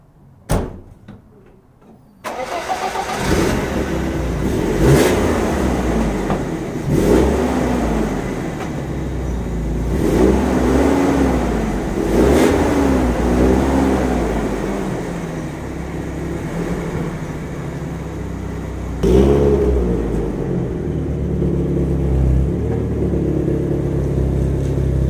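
A 1991 BMW E30 318i manual drift car's engine runs steadily as it is pulled out, a continuous low rumble with a few louder surges, preceded by a brief clunk and short quiet at the start.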